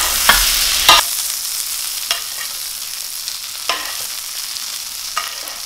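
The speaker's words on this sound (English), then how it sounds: "Just sort of flavor the butter a little bit. Baste it." Steak being basted in sizzling butter flavored with lemon pepper, a steady frying hiss broken by several sharp spoon clinks and splatters against the pan.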